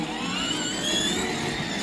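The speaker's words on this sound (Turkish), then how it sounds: "Ama Ali arabası çok ses çıkartıyor şu an." A battery-powered ride-on toy Mini Cooper runs noisily outdoors, giving a steady whirring motor drone with a continuous high whine throughout, close and fairly loud.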